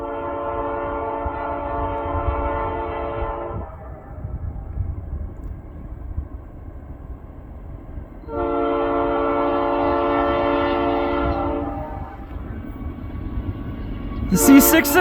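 CN northbound freight M347 led by C6M rebuild locomotive 3308 passes, its horn sounding in two long, loud, harmonic blasts separated by a rumbling gap, with a short sharp squeal at the end and continuous rail noise underneath.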